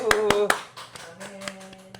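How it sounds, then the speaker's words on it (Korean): Several hands clap sharply in a small home during family worship, a few distinct loud claps at the start fading into lighter scattered taps, with voices speaking underneath. "가정예배 16일차를 허락하신 하나님께 영광의 박수."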